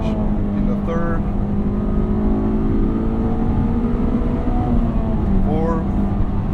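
A manual-transmission car engine drones loudly from inside the cabin, with a brief rev blip near the end as the driver brakes and rev-matches a downshift into third gear.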